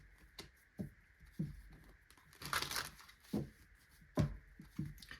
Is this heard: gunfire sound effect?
no